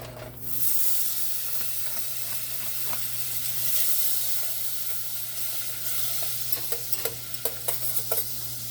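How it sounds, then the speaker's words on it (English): A stick of butter melts in a pan over medium heat, giving off a steady, soft sizzle and hiss under a low hum, with a few small crackles and pops toward the end. "We're going to add 1 stick of butter, half a cup. We got our heat on medium heat right now."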